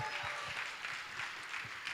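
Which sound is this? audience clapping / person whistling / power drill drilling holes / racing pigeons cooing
audience clapping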